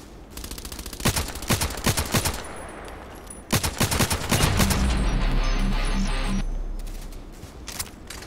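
Rapid automatic gunfire from the online shooter Contract Wars crackles in sharp repeated bursts, stopping briefly and then resuming in a denser sustained volley near the end.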